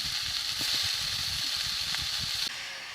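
Fresh spinach leaves dropped into hot oil in a pan already frying dried chilli, cumin, green chilli and chopped onion, giving a steady close hiss and sizzle that softens slightly near the end.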